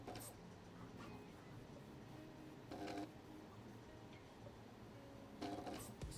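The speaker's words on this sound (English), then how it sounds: "it is not a quiet printer. The steppers are kind of loud." Stepper motors on a 3D printer run as a low, steady mechanical whir with a few short, brighter buzzing bursts, fairly faint and without any voices.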